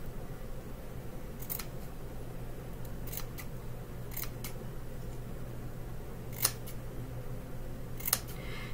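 Scissors snip stitches on a rag quilt: a handful of crisp, separate cuts spaced a second or so apart over a steady low hum.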